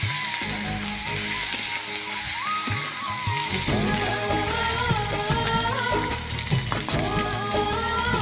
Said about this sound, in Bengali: আলু দিয়ে ডিম দিয়ে এগুলো কষানো হচ্ছে।